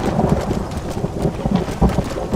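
Rain pours steadily in Red Dead Redemption during horseback travel, with a low rumble of thunder and gusty wind noise filling a dense, continuous wash of sound with no voices.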